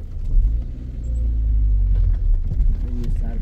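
A car engine idles and rumbles close by with a low, steady drone, and faint voices talk over it.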